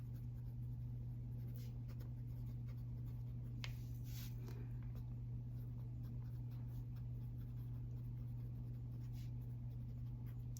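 A fountain pen filled with Ferris Wheel Press Bluegrass Velvet ink scratches softly across paper in short strokes, close and faint, over a steady low hum.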